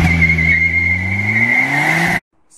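A VW TDI car accelerates hard, its engine droning loud and close with a rising pitch and a steady high whine, then cuts off abruptly to silence.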